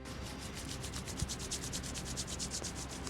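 Palms rubbed briskly together during a morning yoga stretch, a steady run of close, soft swishing strokes in an even back-and-forth rhythm, with no talking.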